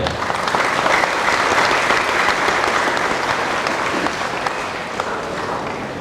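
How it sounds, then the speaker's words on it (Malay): Thunderous applause from a large audience at a religious talk in Malaysia, steady and loud throughout, a continuous roar of many hands clapping that eases slightly toward the end. "mari kita sama-sama bagi tepukan yang cukup gemuruh kepada kita."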